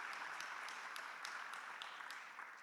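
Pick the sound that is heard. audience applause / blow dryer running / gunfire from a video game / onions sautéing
audience applause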